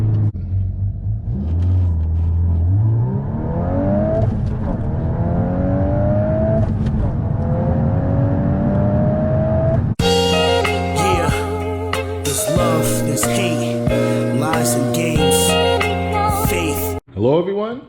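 A tuned MK8 Volkswagen Golf R engine revs and rises in pitch with a few sharp exhaust pops and backfires, then music with steady tones takes over.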